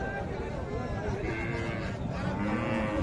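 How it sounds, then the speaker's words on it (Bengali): A Holstein Friesian dairy cow at a cattle market lets out a long, close, droning moo under constant crowd chatter and nearby voices. "গাভী"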